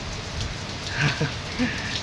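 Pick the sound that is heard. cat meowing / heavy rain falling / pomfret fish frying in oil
heavy rain falling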